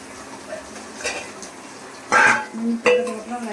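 Fish curry stirred lightly in a pot, soft scraping and a few distinct clinks of a spoon against metal over a low bubbling background, with two louder brief clatters.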